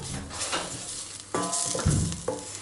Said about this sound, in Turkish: Karıştırmaya devam edin. Hafif salça da kavrulsun.